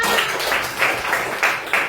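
A classroom of children clapping together for a classmate, a dense steady patter with a few louder rhythmic bursts standing out across the two seconds.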